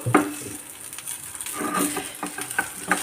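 A thick rice buttermilk kali is stirred and sautéed in a pan with a little oil, giving soft scraping and sticky stirring strokes with light sizzling, close and fairly quiet.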